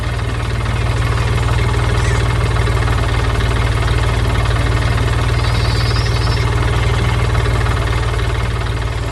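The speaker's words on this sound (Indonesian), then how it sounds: "Truk biru sedang berjalan, melintasi ladang hijau yang luas dengan suara mesin yang riang." A truck engine idles and rumbles steadily with a low, even throb, close and continuous with no talk.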